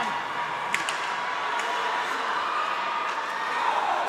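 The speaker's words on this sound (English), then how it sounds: "as you hear the crowd cheering them on" An ice hockey crowd at an IIHF World Championship game between the Philippines and Hong Kong, China gives off a low, steady roar and murmur of cheering across the arena. A commentator talks over it the whole time, with faint sharp clacks now and then.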